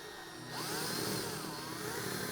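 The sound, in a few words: electric drill spinning a router part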